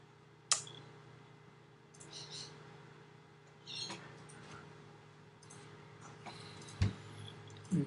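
A computer mouse clicks a few times, scattered single clicks spaced seconds apart, faint and close against a quiet background hum.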